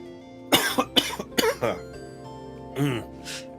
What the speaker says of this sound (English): My throat's stinging, hence I'm coughing a lot